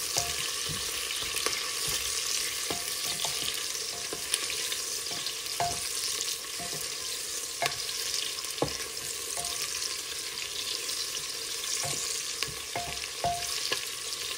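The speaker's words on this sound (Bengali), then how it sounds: "পেঁয়াজটা একটু ভাজা ভাজা হবে" Onions fry in a pressure cooker with a steady, bright hiss of sizzling oil, broken by scattered clicks and scrapes from stirring. No voices are heard.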